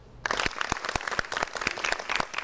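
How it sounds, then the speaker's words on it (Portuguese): An audience at an education event on literacy applauds in honor of educator Magda Soares, a dense burst of many hands clapping close and loud, beginning after a quiet instant and sustained to the end. "E para fechar ainda, nós vamos aplaudir a Magda Soares."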